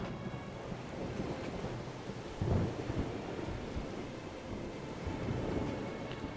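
Heavy rain hisses steadily while thunder rumbles low in the video game Syberia 2, swelling into a louder roll midway, with wind buffeting throughout.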